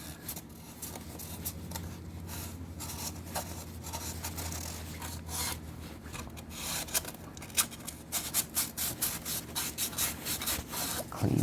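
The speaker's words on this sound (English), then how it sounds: "First going to go around that with a little bit of fine sandpaper right in the groove there." Fine sandpaper rubbed by hand around the groove of a timing-cover mating surface on a 2005 Chevy Aveo 1.6L E-Tech II engine, a steady close scratchy rasp that turns into quicker, choppier strokes toward the end.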